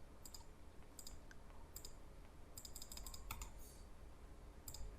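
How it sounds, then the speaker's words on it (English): Typing on a computer keyboard, with scattered clusters of light key clicks over a low background hum, alone with no talk. "I'm gonna type that all in as headings in my digital"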